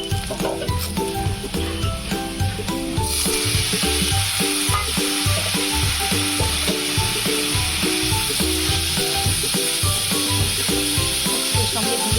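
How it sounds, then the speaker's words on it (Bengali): Prawns rubbed with salt, turmeric, chili powder and lemon juice fry in hot oil, giving a loud, steady sizzle with bright crackling spits and occasional stirring clatter throughout. "চিংড়ি মাছটা খুব ভালোভাবে ভেজে নেব"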